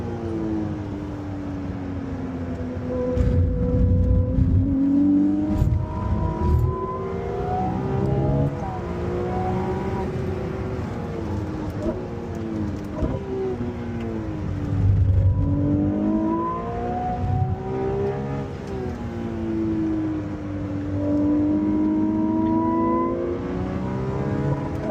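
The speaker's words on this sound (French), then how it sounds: "Je vous laisse savourer l'accélération de la" A Ferrari 296 GTB accelerates hard on a race track, its engine climbing through repeated rising revs with clear gear changes between pulls, loud and sustained from inside the car.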